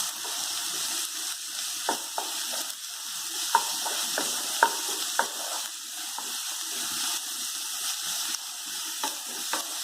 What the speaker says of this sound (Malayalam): ഇനി അതിലേക്ക് സവാള ഇടാം. നന്നായിട്ട് ഗ്രൈൻഡ് ചെയ്ത സവാളയാണ്. അതേമാതിരി വഴറ്റിയെടുക്കാം.